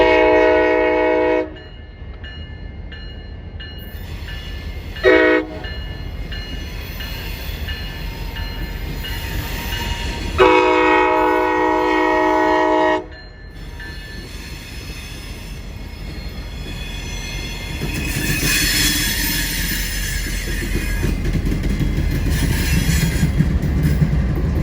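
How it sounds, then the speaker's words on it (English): CSX freight train K442 passing northbound at Pine Street, loud and close, with repeated horn blasts, rumbling wheels and squealing rails as the cars roll by. "CSX K442 heads northbound by Pine Street with a very unique consist."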